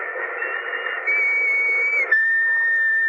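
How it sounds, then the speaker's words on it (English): A whistle blown in an old radio drama, sounding as long steady shrill blasts with a slight pitch drop partway, loud and clear over a faint broadcast hiss, with no voices. "Remember that whistle?"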